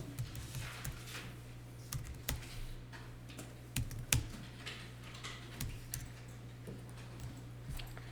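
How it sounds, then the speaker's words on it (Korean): Someone types a bank account number, hyphens included, on a computer keyboard in an accounting class, producing quiet, irregular key clicks with an occasional louder tap over a low steady hum, with no talking. "하이폰까지 넣어서 타자해 주시면 됩니다."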